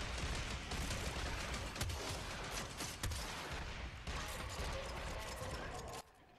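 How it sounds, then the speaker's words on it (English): A Corinth pump-action shotgun fires in the video game Warframe, with heavy booming blasts in a loud, dense, continuous mix of game noise. "And that's how a shotgun is supposed to sound. A pump action shotgun."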